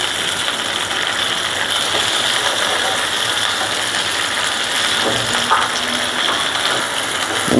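Prawn and hilsa fritters fry in a pan with a loud, steady, close sizzling hiss, broken only by a few small pops and crackles.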